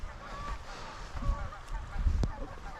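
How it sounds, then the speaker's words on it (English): Geese honk by the Blackfoot River in Montana. The calls are scattered and fairly distant, with a louder single honk near the end, over low rumbling background noise and a murmur of voices. "A bunch of geese."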